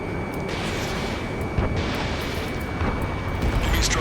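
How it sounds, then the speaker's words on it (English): Gunfire and roaring jet aircraft from the video game Ace Combat 7, set in a city under martial law, form a dense, loud wash of rumbling booms and jet roar that swells and surges across the whole stretch. "Gunfire and the roar of jets echoing through the streets."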